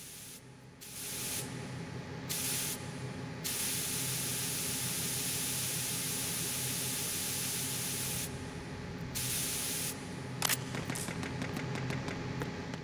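Steady hissing spray from a video game runs almost continuously, with a few short gaps where it cuts off and resumes, ending with a faint metallic click. No talk is heard.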